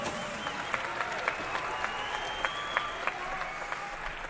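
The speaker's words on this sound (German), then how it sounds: "ihr Applaus für beide Kämpfer" Steady applause from a crowd at a combat sports fight event, a dense wash of clapping with a few sharper claps standing out, fairly distant and even throughout.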